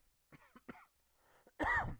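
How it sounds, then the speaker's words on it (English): A few short, dry coughs and throat-clearing bursts close to the mic from a man with a lingering cough, during a spoken podcast, ending in one loud, harsh cough, with no talking. "I've been battling with a cough"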